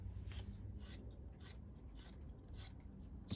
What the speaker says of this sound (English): scrape away a little bit so you get to the green.